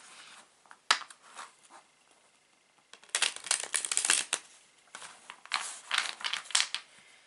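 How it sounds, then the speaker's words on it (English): Playing cards are shuffled close by, with soft riffles and crisp bursts of flicking cards, brief pauses between bouts and a quiet stretch before louder, rapid shuffles. "there will be some shuffling noises"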